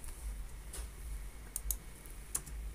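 Ctrl key combinations pressed on a computer keyboard, a few faint, sparse clicks over quiet room noise, no talk.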